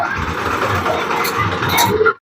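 A tractor engine rumbles steadily at close range in a Hindu religious procession at Valamdham, Gariyadhar, carrying a live yagna fire ritual, with crowd noise and voices mixed in over about two seconds.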